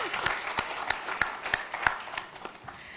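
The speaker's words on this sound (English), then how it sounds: "let's give them a round of applause" Applause from an audience at a university's 125th anniversary event, a modest crowd clapping steadily with a few distinct louder claps standing out, close and continuous throughout.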